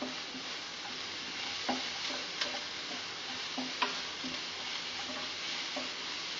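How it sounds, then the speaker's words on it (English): Mustard seeds sputter with scattered sharp pops and ticks over a soft, constant sizzle as onions fry for an Indian-style couscous, fairly quiet and close, with no voices. "The onions change, and you can hear the mustard still popping."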